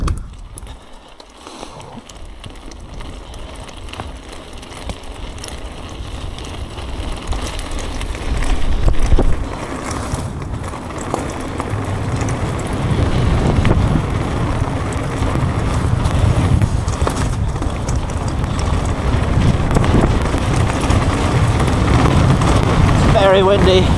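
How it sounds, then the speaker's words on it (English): Strong wind at Dyfi Bike Park on a rainy day rumbles and buffets the microphone continuously, growing louder and denser toward the end, with a person talking faintly underneath. "Very windy."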